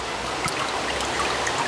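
Water drains steadily from a hand paper-making mould just lifted out of pulp, a continuous close trickle and patter of drips with no voices.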